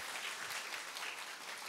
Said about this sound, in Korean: 우리 큰 박수로 축복하겠습니다